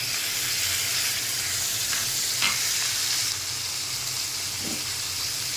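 Onion, garlic and ginger frying in a pan for aloo dum, a steady close sizzle with occasional stirring scrapes and no talk.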